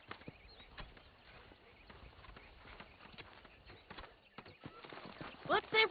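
Horse hooves clip-clop steadily at close range in the video game Red Dead Redemption, a ranch setting with wild horses nearby, with faint voices in the background.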